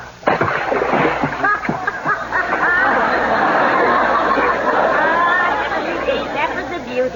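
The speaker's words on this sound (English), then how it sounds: "That was as big a splash as I ever saw." Big splash of a fishing cast into water, a sudden watery burst that comes early and then gives way to sloshing, with lively voices chattering and laughing over it.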